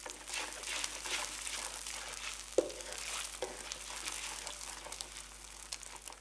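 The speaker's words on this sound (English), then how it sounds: "Blend the eggs through the chilli paste and oil until they start to cook through." Eggs are stir-fried with chilli paste and oil in a wok, giving a faint, steady sizzle with one light scrape of a utensil partway through.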